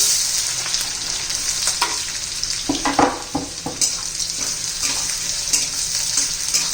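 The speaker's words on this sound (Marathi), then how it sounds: "आता कांदा घालून घेऊ" Onion sizzles and fries in a pan of hot oil already tempered with mustard seeds, garlic and curry leaves, with a steady loud hiss broken by scraping stirs, for a Marathi raw-banana dry vegetable dish.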